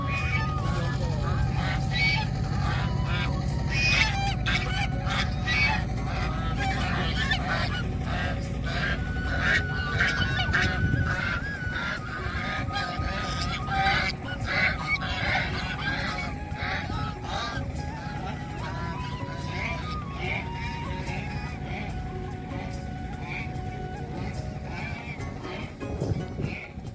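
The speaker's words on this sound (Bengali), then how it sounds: "রাজহাঁসের ডাকগুলাও শুনতে অনেক ভালো লাগে" Geese honking by the Jamuna river in village surroundings, many loud overlapping calls repeating throughout against a steady outdoor background.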